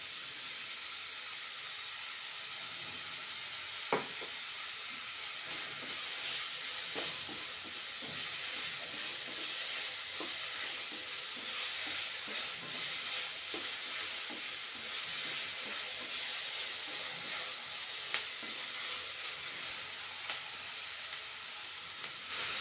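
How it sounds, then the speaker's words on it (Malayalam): Sliced onions with a pinch of salt sauté in a pan for prawn roast, a constant hissing sizzle with scattered ticks and spoon scrapes, even and moderately close throughout. "സവാള ചേർത്താൽ വേഗം വഴണ്ട് വരുന്നതിനായി നമുക്ക് ഒരിത്തിരി ഉപ്പ് കൂടി ചേർത്ത് കൊടുക്കാം"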